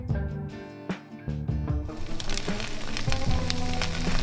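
An egg frying in a pan gives a steady close sizzle with popping crackles that thicken and grow louder partway through, with no talking.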